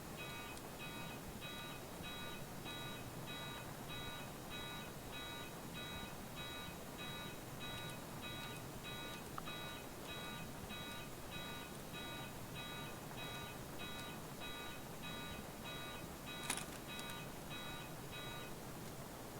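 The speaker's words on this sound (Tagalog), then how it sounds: "Pinutay ko yung alarm mo." A video game alarm beeps in a fast, even electronic pattern that repeats for about twenty seconds, faint but continuous over steady background noise.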